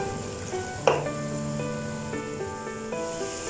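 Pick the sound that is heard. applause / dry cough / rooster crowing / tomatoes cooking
tomatoes cooking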